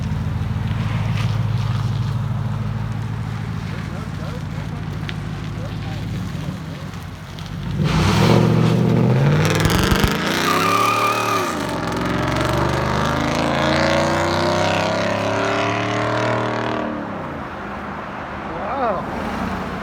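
A Ford F-150 with a 5.0L V8 and straight pipes idles with a burbling rumble, then roars through hard revs and a loud pull as it drives off, with voices talking around it.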